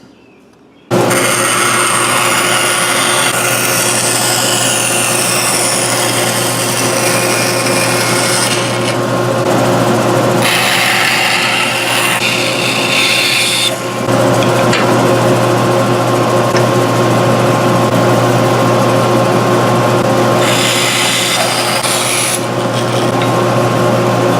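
Material is cut into smaller pieces for a bracket with a power tool that grinds loud and continuously, with brief dips in pitch and load as the cut goes on.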